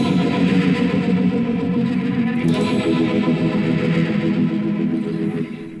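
Electric guitar heavily processed with effects such as chorus and distortion until it no longer sounds like a guitar, a dense, sustained, shimmering wash of tone that plays on steadily for several seconds before tailing off.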